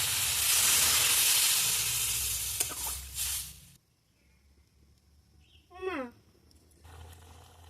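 Water hitting a hot pan of fried cauliflower gives a loud, broad steaming hiss that fades out after nearly four seconds, leaving quiet kitchen background with a short high squeak near the end.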